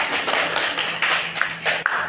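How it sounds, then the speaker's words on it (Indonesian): A classroom of students claps for a group after its presentation, a short burst of loose, uneven hand claps heard fairly close. "beri tepuk tangan untuk kelompok 3"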